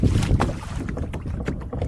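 A Perception Showdown pedal kayak with a small plastic propeller glides slowly through water into the wind, with soft continuous water swishing and light wind rush close to the microphone.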